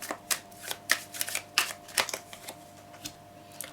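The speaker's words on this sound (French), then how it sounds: "Je vais faire comme le choix 1, tirer 3 cartes." Tarot cards shuffled and drawn by hand, a run of crisp riffling bursts and soft slaps at a quick, uneven rhythm, close up and without talk.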